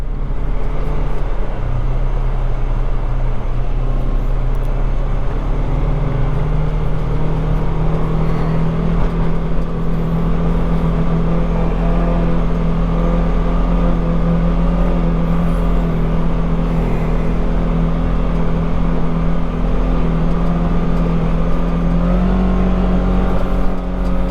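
A four-wheel-drive off-road vehicle drives at King of the Hammers, its engine droning steadily and loudly up close with slight rises in pitch, mixed with rumbling road and wind noise and no talking.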